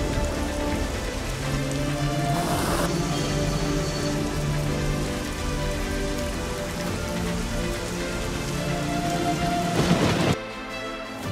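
Heavy downpour in Bengaluru, with a dense, steady roar of rain pounding surfaces. A rumble of thunder swells near the end, and the rain continues loud and unbroken with no voices.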